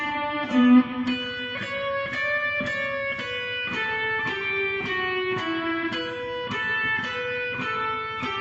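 A guitar plays a short melodic phrase from Pachelbel's Canon, clean single notes picked one after another at an even, moderate pace, close and clear.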